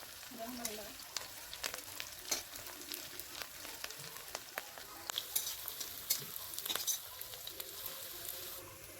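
Sliced onions frying in oil in a wok for chicken biryani give a continuous close sizzle, broken by the clatter and scrape of a spoon stirring at irregular intervals.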